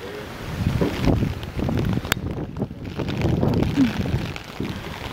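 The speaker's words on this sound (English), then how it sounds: "Can you tell it's windy and rainy?" Wind and rain buffet a handheld camera outdoors under an umbrella, heavy gusting rumble and microphone buffeting filling the whole stretch, loud and close, with brief voice sounds mixed in.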